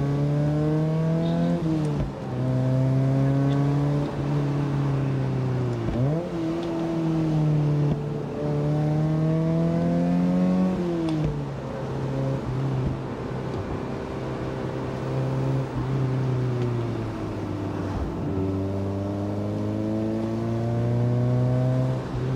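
A Mazda Miata drives the winding Tail of the Dragon road, its engine droning loud and close, rising through the revs, dropping at each gear change, then climbing again over a long stretch with no talking.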